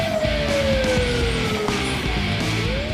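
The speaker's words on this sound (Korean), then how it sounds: "동시에 사이렌이 울려 퍼집니다." A siren wails at an explosive ordnance disposal site before a detonation of unexploded munitions, its tone sliding steadily downward and rising again, loud and continuous over a dense rumbling background.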